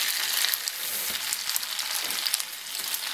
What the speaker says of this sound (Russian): Жарится хорошо.